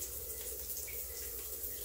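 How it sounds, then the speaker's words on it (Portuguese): Water from a Hydra Fit electronic shower head makes a faint, steady watery hiss and trickle, heard alone with no voices. "Veja aí as gotinhas pingando."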